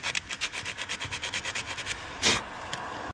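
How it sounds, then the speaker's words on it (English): Rapid back-and-forth scrubbing on the metal contact surfaces of a car ground strap on a Porsche Cayenne, a soft rhythmic rasping that runs steadily and then ends with a brief louder scrape. "doing my best to clean all of the surfaces"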